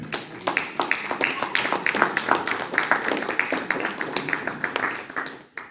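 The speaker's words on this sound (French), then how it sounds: "Est-ce qu'on peut applaudir le Seigneur?" A church congregation applauds with steady, rhythmic clapping that fills the room, mixed with voices and cheering, before it tapers off at the end.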